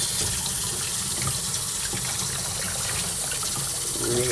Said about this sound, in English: just give this a really good aggressive rinse.